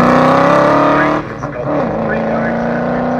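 A Ford Capri Piranha V8 race car at a sprint event roars loudly past, its engine note steady and strong, then a brief dip before the drone continues close by.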